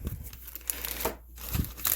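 Scissors cut open the plastic packaging of a SlingMods Pedal Commander for a Can-Am Ryker, giving close crinkling and tearing with a few sharper snips, no talk.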